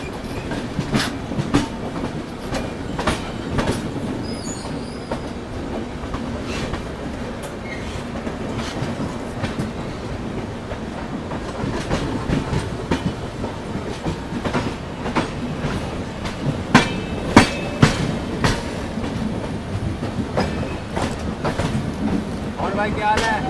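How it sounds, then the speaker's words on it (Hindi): A Chennai Howrah Mail passenger train runs alongside the Nanded Santragachi Express, with steady rolling rumble, repeated clickety-clack wheel beats over rail joints and occasional louder clanks, heard from inside a 2nd AC coach. "नांदेड़ संतरागाछी एक्सप्रेस ट्रेन के साथ हम लोग की ट्रेन जो है एकदम बिल्कुल बराबरी में चल रही है।"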